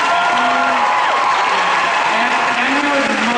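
A large crowd at a Comic-Con panel for Once Upon a Time claps loudly and continuously, with cheers and whoops rising through the applause.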